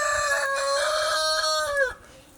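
A rooster crows loudly close by in one long drawn-out call that cuts off near the end, with a few clucks underneath; the flock holds five roosters.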